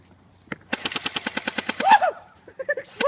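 An airsoft rifle fires a rapid burst of about a dozen sharp, evenly spaced shots, loud and close, with a short voice and a clatter after it.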